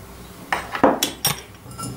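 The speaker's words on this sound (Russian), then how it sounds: "Зерна кориандра. Растираю." Coriander seeds ground together with salt for a veal lips recipe, heard as a few separate scraping, crunching strokes with small clinks, close and moderately quiet, with no talking.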